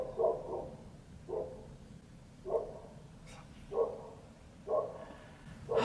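A dog barks in short bursts from a distance, about six evenly spaced single barks roughly a second apart, moderately loud above a quiet indoor background.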